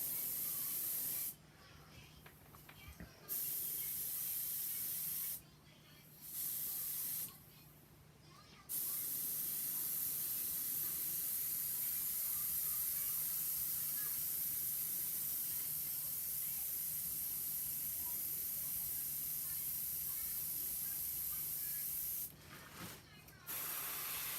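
Spray paint hisses from an aerosol can over a stencil in long, steady bursts, with a few short breaks between them, close and continuous.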